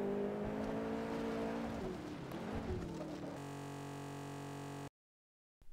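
In an Xbox 360 racing game run on the Xenia emulator, a car engine drones, then hitting the brakes turns the sound into a harsh, buzzing, static-laden tone that cuts off abruptly into silence.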